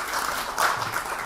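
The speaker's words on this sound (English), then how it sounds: "give him a very big clap." Audience applause at an annual general body meeting in a hall, a steady wash of many hands clapping for the whole short stretch, moderately loud with a slight swell midway.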